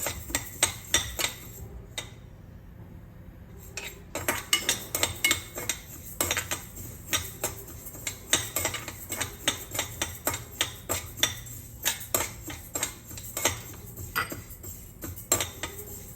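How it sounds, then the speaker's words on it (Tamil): Black urad dal being dry-roasted in a pan for porridge, with a spoon scraping and stirring it in a steady run of close metallic clinks and rattles and no talking. "இப்போ கஞ்சிக்கு வறுக்கிறேன்"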